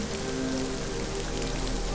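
Steady rain pours down in a dense, even hiss of drops striking surfaces, continuous and moderately close with no voices.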